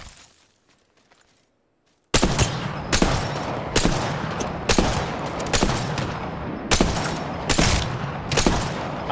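Rapid bursts of automatic gunfire in the Apex Legends battle royale shooter, with an SMG among the weapons, break out after two seconds of near silence and continue loud and close in repeated cracking volleys.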